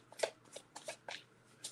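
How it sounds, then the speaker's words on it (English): A deck of tarot cards is shuffled by hand in several quick riffling bursts, close and fairly soft, with short pauses between them and no talking. "Let's give that deck a good shuffle."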